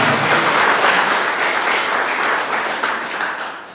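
Church congregation clapping together during a worship service, a loud, full burst of applause from many people that carries on steadily and tapers slightly toward the end, with no talking over it.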